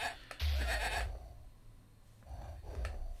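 Sheep in the Amiga strategy game Powermonger let out two short, nasal bleats, a louder one near the start and a fainter one toward the end, with quiet gaps between them.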